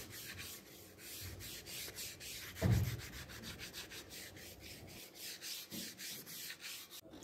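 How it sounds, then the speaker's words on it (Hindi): Rust being rubbed off iron with 80-grit sandpaper: a steady, close scratchy abrasion with repeated strokes and one heavier scrape partway through, continuing without speech. "उसको हम पहले जंग को साफ़ कर लेंगे इस तरीके से रगड़ के अस्सी नंबर का पट्टे वाला रेगमाल है ये"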